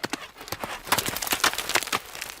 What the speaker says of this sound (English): he hears a horse and carriage pull up outside of the Beit Midrash